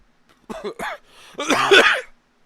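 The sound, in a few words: coughing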